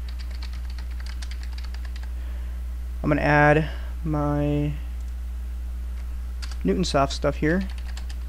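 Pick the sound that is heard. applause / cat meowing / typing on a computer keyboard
typing on a computer keyboard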